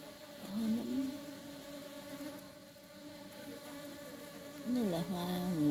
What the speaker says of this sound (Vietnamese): nghe tiếng ong rồi